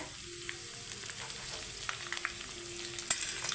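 Curry leaves hit a pan of frying onions over low flame, giving a soft, steady sizzle with a few faint crackles and pops, quiet and close.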